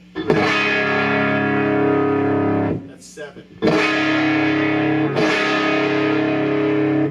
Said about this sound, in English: cranking this all the way up gives you like a fuzz pedal effect